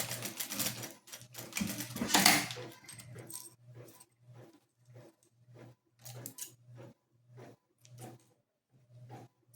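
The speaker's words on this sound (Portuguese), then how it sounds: "vou passar uma costura" A sewing machine stitches along a zipper for a headboard cover, heard as rapid mechanical bursts broken by short pauses, with a dense run at first and then an even start-stop rhythm of short runs, close and fairly quiet.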